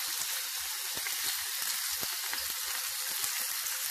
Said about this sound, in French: j'ai fait chauffer de l'huile d'olive et je les pose dans ma poêle